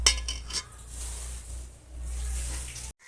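Rice is stirred through a pot of heating milk, with a few light utensil clinks against the pot at the start, then a soft, steady scraping and swishing close by, with no talking.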